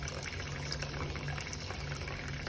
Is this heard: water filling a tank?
yes